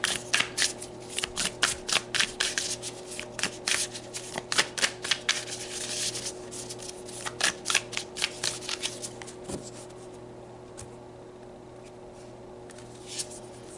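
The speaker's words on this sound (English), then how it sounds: "All right, let's pull you some more cards." Tarot cards are shuffled in a run of quick, crisp riffling bursts up close, with no talking, and the shuffling fades out toward the end.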